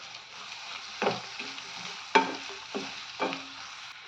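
Crab curry with tomato being stirred in a frying pan, a steady close sizzle broken by four distinct scraping strokes of the spoon, no voices.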